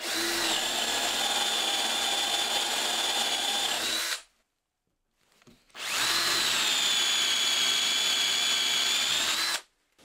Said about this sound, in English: On those marks I've made, I'm going to drill down with a Forstner bit to accept the head of a bolt.